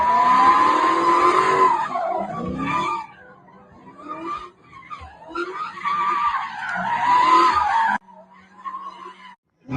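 Street racing cars skidding in New York, played back from a recording: loud, sustained tire squeals and revving engines in two long bursts with a short lull between, then a sharp cut.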